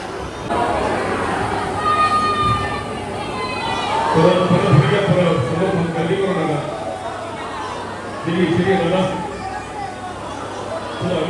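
Crowd of devotees at Siddhivinayak temple in Mumbai, a steady murmur of many voices and movement with nearby people talking over it.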